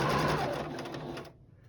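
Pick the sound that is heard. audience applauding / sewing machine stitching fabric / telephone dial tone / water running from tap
sewing machine stitching fabric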